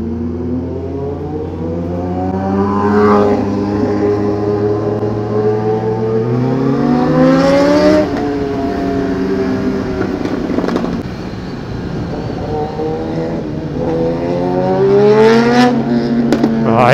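A loud motorbike engine revs close by in several rising and falling sweeps over about seventeen seconds, its throaty pitch climbing and dropping with each throttle blip.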